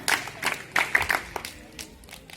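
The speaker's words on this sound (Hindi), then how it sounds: "इस बार स्वागत ताली बजाएंगे।" A group of people at a Republic Day cultural program clapping in the 'welcome' rhythm, several sharp bursts of claps in a loose pattern that thin out toward the end, fairly close and moderately loud.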